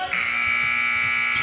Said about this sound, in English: The buzzer beater.